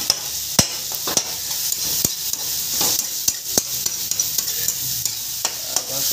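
Chicken frying in a pan and being stirred, with a steady loud sizzle under sharp scrapes and clinks of a spoon against the pan at irregular intervals.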